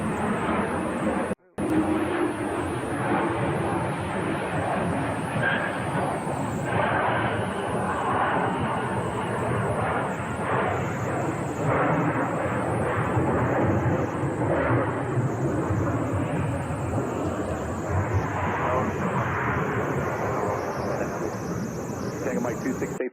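Aircraft approaching to land on runway 25 right at Phoenix, a continuous broad jet roar that holds loud for the whole stretch, with radio talk and voices over it.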